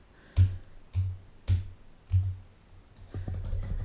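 Four distinct, evenly spaced keystroke-like taps on a computer keyboard during AutoCAD text entry, close and clear in a quiet room, followed by a quicker flurry of softer typing.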